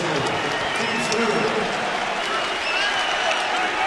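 A college basketball arena crowd gives sustained applause for LSU, a dense steady patter heard beneath a commentator's talk.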